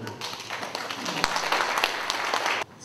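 Warm welcoming applause from an audience at an indoor founding-anniversary ceremony for a Buddhist news channel, close and sustained with distinct claps, stopping abruptly near the end.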